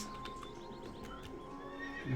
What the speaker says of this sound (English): Hey, we got a horse.